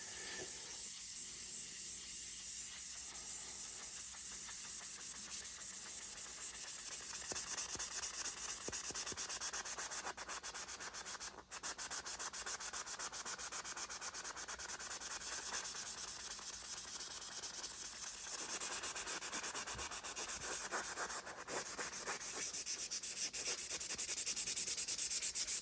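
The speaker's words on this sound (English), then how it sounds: "let's go ahead and move on to the 400" Hand sanding a coating with 400-grit sandpaper during coating removal, a steady, close abrasive rubbing and scratching that runs continuously at an even level with only brief pauses.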